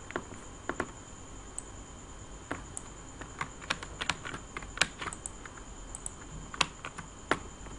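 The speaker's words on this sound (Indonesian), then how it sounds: "Kita ketikin satu-satu." Rapid clicks of fingers typing on a computer keyboard, close and fairly quiet, in irregular bursts of keystrokes with short pauses and no talking.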